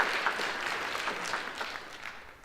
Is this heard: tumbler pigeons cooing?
no